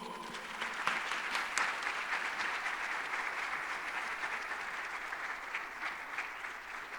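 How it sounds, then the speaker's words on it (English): Steady audience applause fills a closing plenary session of a global digital public infrastructure summit, sustained and even throughout, with no voices over it. "A round of applause for our co-hosts."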